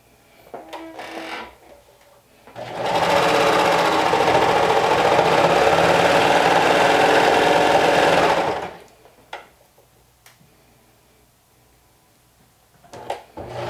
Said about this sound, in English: pin in place, and then stitch without stretching